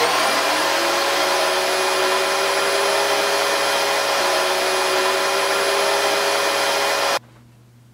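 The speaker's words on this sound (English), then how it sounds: "No, I can't hear you. The vacuum is on." A household vacuum cleaner runs loud and steady with a constant whine, then cuts off abruptly near the end, leaving only faint room noise.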